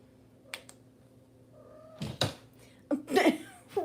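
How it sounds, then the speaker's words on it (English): A cat whines and meows in several drawn-out, wavering calls, a short pair early on and louder, harsher cries toward the end, close by in a quiet indoor room during acrylic painting. "Oh dear, whiny cat central."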